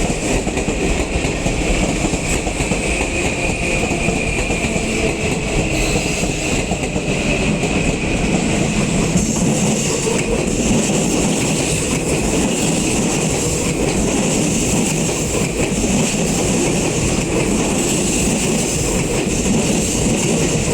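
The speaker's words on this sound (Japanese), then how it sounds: "新幹線と新幹線が交差。" A Sotetsu 9000 series train and a Tokyu 5050 series 4000 subseries train wrapped in Shinkansen livery pass each other, giving a loud, sustained roar of wheels and rails with a steady rumble and a high metallic whine throughout.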